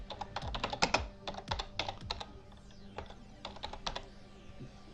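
Fingers tap quickly on a computer keyboard, with bursts of crisp, close clicking keystrokes separated by short pauses.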